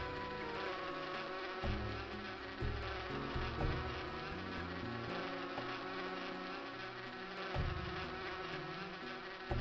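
Bees swarming around a honey tree in a retro video game, a steady synthesized insect drone layered over looping chiptune-style game music with a pulsing bass pattern, loud and continuous throughout, with no talk.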